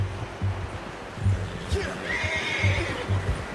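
A horse in the video game Red Dead Redemption 2 whinnies in a short, rising neigh over the soft clip-clop of hooves, with a voice briefly speaking nearby.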